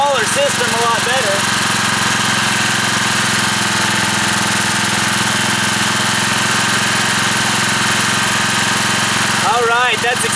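A 4,000 watt industrial grade generator runs, powered by a wood stove, a loud, constant mechanical hum and buzz that stays close throughout, with a voice heard briefly at the start and end.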